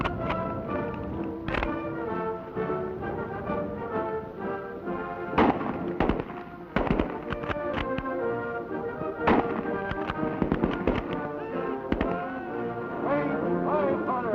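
Marines fire Springfield rifles at targets, a series of sharp irregular shots crackling over a busy orchestral music bed, some shots sharper and louder than others.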